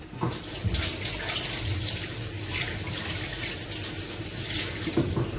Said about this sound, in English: I'm going to give it a quick wash.